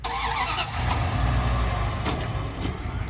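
A Dodge Ram pickup truck engine cranks and catches, then settles into a loud, rough idle close by, with a couple of sharp clicks over the rumble.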